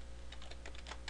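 Quick keystrokes clatter on a computer keyboard, a short run of close, fairly quiet taps including the Enter key, with no talking.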